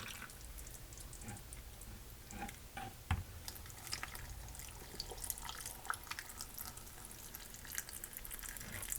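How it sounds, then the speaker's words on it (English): Hot water is poured into glass canning jars packed with pot roast and mushrooms, a faint trickling and dripping pour with light splashes, quiet and close, without speech. "And that is hot water."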